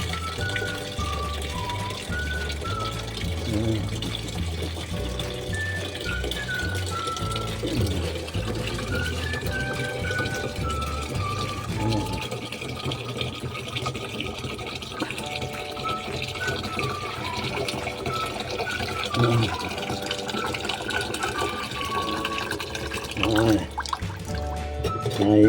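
Water pours and splashes steadily while heated water is readied for a bath, a continuous liquid rush with brief drips and knocks, as voices talk over it.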